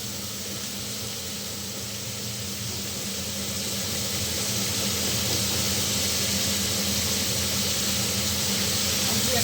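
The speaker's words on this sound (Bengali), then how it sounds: "দেখো আমার এই বেগুন আলু পেঁয়াজ ভাজাটা হচ্ছে।" Eggplant, potato and onion frying in a pan, a steady broad sizzling hiss that grows slightly louder and continues unbroken close by, with no voices.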